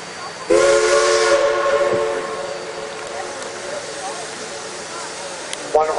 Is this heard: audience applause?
no